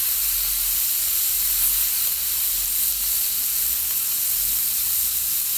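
Butter sizzling on a hot flat-top griddle while chuck steaks cook, a steady loud bright hiss with no talking.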